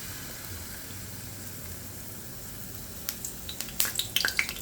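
Strawberry fritters frying in oil make a low, steady sizzle, then sharper pops and spatters burst out irregularly near the end, close and fairly loud.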